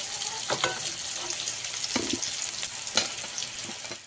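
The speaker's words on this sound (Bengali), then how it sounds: "গোটা জিরে আর গরম মশলা, তেজপাতা, দিয়ে নিচ্ছি পেঁয়াজ, কাঁচা লঙ্কা।" Whole cumin, garam masala, bay leaf, onion and green chili sizzle in hot oil for a Bengali mackerel curry, a steady close frying hiss broken by scattered stirring clicks and scrapes.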